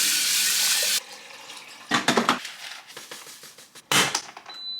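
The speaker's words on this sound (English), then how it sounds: "We got a new faucet." A newly installed kitchen faucet runs in a steady hiss for about a second, then stops; two shorter bursts of flowing water follow, with quieter handling clatter in between.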